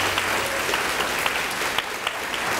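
A school board meeting audience claps continuously for staff honored as Hurricane Heroes, producing a dense, even wash of applause throughout.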